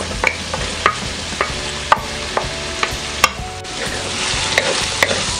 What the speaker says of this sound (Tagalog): lulutuin lang din po natin ang ating sibuyas